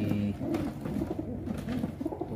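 Pigeon cooing among a loft of racing pigeons being loaded for transport, soft low repeated coos running through the whole moment with a steady background murmur.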